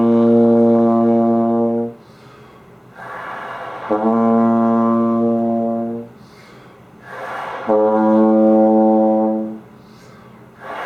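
Lips buzzing gently together without tongue to produce a brass tone, three sustained, steady buzzing notes of about two seconds each, separated by short breathy pauses, heard alone and fairly close.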